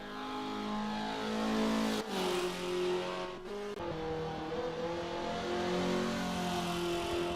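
A Mazda track-oriented car's engine revs hard and climbs through the gears, with sharp breaks at each gear change, loud and close with no talking.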